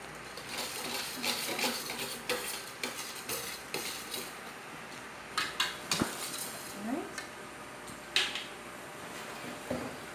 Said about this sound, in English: I'm just going to take the whisk and use the whisk to agitate the tamarind a bit